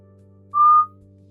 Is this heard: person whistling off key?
yes